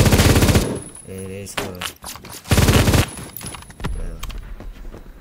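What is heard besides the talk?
LMG gunfire in the video game Phantom Forces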